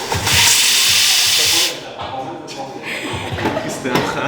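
Espresso machine steam wand hissing in a barista setting, a loud steady high hiss that runs for about a second and a half, then drops to quieter intermittent hissing and clatter with people talking nearby.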